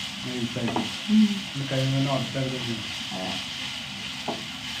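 Onions sizzle steadily in a pan as a spatula stirs them in short scraping strokes, with a faint voice in the background.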